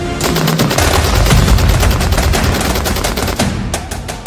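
Fighters in Gaza fire heavy gunfire in loud, rapid automatic bursts with overlapping shots, forming a dense, continuous barrage near and far.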